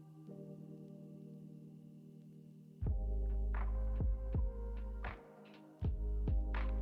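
Low, booming heartbeat thuds enter after a hum, loud pulses repeating roughly once per second close up, with a steady drone underneath and brief gaps between.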